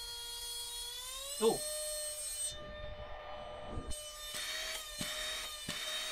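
A small portable vacuum cleaner runs with a steady, fairly quiet whining motor tone, broken by a few brief knocks and bursts of airflow as it is handled.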